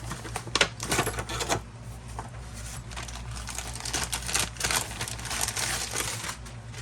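Carburetor and throttle parts for a Honda Ruckus GY6 being unboxed, with rustling plastic packaging, crinkling and light clicks and taps of small metal parts handled up close.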